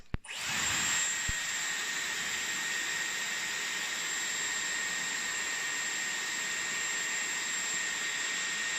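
A Dyson Airwrap hair styler switches on with a click and settles into a steady, high-pitched whirring blow of air that runs unbroken to the end.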